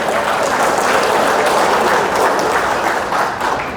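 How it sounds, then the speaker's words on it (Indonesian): A congregation at a GBKP church Mamre gathering bursts into dense, steady applause, a loud close wash of many hands clapping for a few seconds with no speech over it. "Tepuk tangan buat Mamre."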